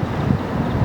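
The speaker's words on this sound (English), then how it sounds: "Oh, it's windy." Wind buffets the microphone in a low, rumbling roar at Lihue Airport, Hawaii, steady and loud throughout the brief moment.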